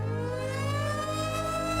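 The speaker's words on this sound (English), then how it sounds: "The chances are right now the tornado sirens are going off" A steady, sustained outdoor tornado warning siren drones continuously at a moderate distance, holding an even tone with no voices over it.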